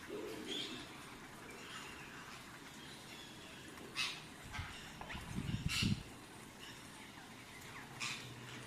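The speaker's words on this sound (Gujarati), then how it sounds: "કબૂતર ને પોપટ ને બધા ભેગા છે ને તો ચાચા બધા પોપટ આવ્યા છે અત્યારે" Pigeons and parrots gathered on a rooftop give scattered coos and short calls, faint and somewhat distant, with a brief busier burst of calls midway through.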